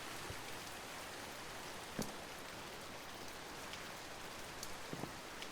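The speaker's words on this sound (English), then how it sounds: "Perfect with the rain." Rain falls in the Minecraft video game as a soft, steady hiss, with a few faint drip-like ticks scattered through it.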